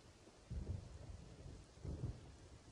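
Thunder rumbles twice in a Roblox Camping 2 thunderstorm, low rolling booms rising out of a steady rain hiss, both fairly faint and distant-sounding, with no talking.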